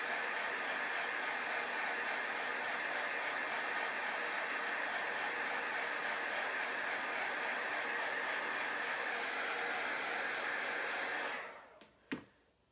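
A handheld heat dryer blows steadily and loudly for about eleven seconds to dry chalk paste on a carrot-themed bunny cut-out craft project, then cuts off, leaving a couple of brief clicks and handling knocks.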